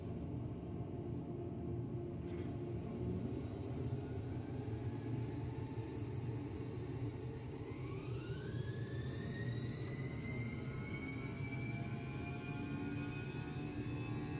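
An airliner's jet engines rumble steadily during the takeoff roll, heard faintly from the cockpit as a low, continuous roar while a rising whine climbs in pitch partway through.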